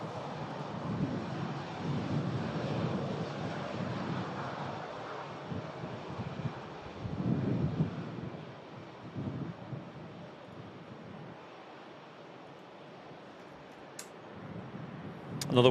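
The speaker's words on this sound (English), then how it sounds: "There is a plane currently rolling down the runway" A plane rolls down the runway for takeoff at Manchester Airport during a stormy, windy day, its engine roar a steady low rumble mixed with heavy wind buffeting, swelling in spots and lasting throughout.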